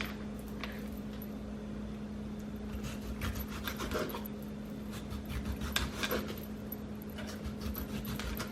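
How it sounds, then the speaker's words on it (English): A knife cuts through a fresh tomato on a board, giving soft rhythmic slicing and scraping strokes, close and fairly quiet, repeated over several seconds. "I'm just gonna go ahead and cut that up and just make a few little slices of tomato"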